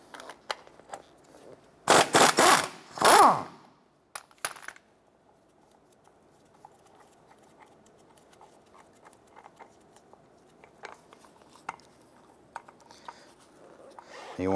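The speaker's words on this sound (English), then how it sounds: "Use your 17mm socket. Remove this bolt, holding the mount to the bracket." A 17mm socket removing the bolt that holds the right front engine mount to its bracket on a 2008–2012 Honda Accord gives a burst of sharp ratcheting clicks early on, then faint metallic ticks and handling noises.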